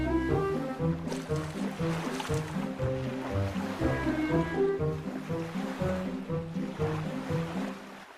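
A cartoon car named Gasser drives into the water, and a rushing, surf-like wash of splashing rolls on continuously beneath bright, rhythmic background music.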